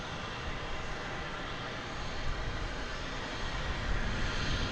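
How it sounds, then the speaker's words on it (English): An American Airlines Airbus A321 arriving from Denver at DFW Airport makes a faint, distant jet roar that stays steady and swells slightly toward the end. "flight 1067 from Denver, American Airlines and Airbus A321 now passing through those trees into our view"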